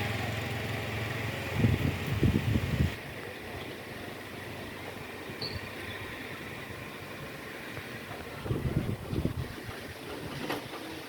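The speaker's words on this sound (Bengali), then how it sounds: "বাতাস শুরু হয়ে যাচ্ছে, ঝড় শুরু হয়ে গেছে" Wind blowing as a storm starts, a steady broad gusting rush with rough low buffeting bursts against the microphone, no voices.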